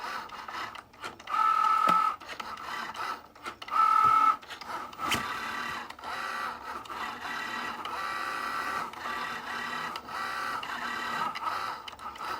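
A Cricut Joy cutting machine cuts out a T-shirt design, with a steady mechanical whir and small clicks throughout and two short, louder motor tones that each rise for about half a second, all close by with no talking.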